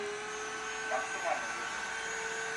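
A Grunhelm GWVC-61B cordless washing vacuum cleaner runs in maximum mode, giving a constant motor whine and airy hum with a faint steady tone, plus a brief swell in the middle.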